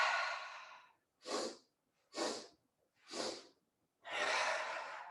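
Five separate breaths during a breathing exercise, close and airy: a long exhale, three short puffs evenly spaced about a second apart, then another long exhale, with silence between them.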